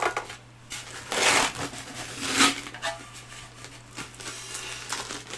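A parcel reflector wrapped in heavy layers of tape is handled during an unboxing, close crinkling and rustling bursts with brief scrapes between quieter pauses.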